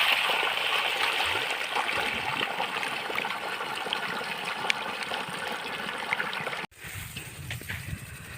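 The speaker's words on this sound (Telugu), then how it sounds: "మనకి మైక్రో స్ప్రింక్లర్ అనేది వాటర్ అనేది ఎలా పోస్తున్నాయి చూడండి" Micro sprinklers watering a peanut field, a steady hissing spray of water that cuts off abruptly near the end, followed by quieter outdoor sound.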